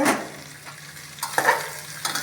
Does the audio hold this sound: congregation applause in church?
no